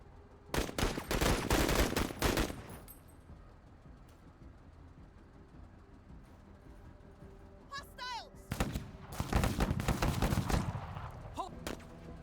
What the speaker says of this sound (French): Darby peut effectuer un tir de suppression.